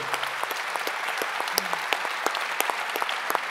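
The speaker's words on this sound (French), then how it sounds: "On peut applaudir." Steady applause from the audience at an award ceremony, the Unapei-GMF 2024 prize presentation at a congress, with a dense, even patter of many hands and a few sharper claps throughout.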